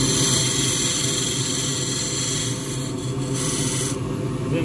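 A skew chisel laid on its side cuts grasstree wood spinning on a lathe, giving a steady close rasping, scraping hiss over the constant hum of the machine, with no talking.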